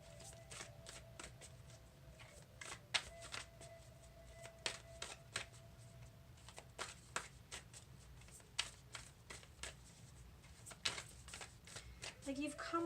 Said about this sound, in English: I'm gonna shuffle these oracle cards.